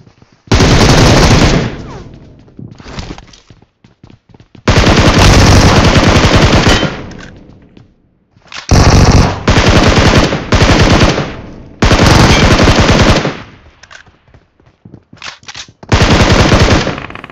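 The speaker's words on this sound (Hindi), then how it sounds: "बहुत देर से फायरिंग आ रही थी" Video game machine-gun fire rattles in loud, long automatic bursts separated by brief quiet gaps, several sustained volleys of rapid shots alone without talk.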